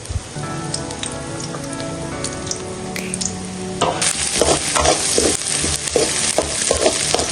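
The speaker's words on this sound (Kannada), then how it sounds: "ಈರುಳ್ಳಿ ಹಾಕೋತಾ ಇದ್ದೀನಿ." Three medium onions, sliced lengthwise, fry in hot oil in a pan. A soft tonal background gives way at about four seconds to a loud, crackling sizzle that continues to the end.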